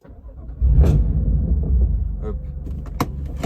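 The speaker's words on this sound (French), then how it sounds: "je redémarre la voiture" A BMW M2 Competition engine turns over from cold and catches, settling into a low steady rumble, with a brief word spoken just before and a sharp click near the end.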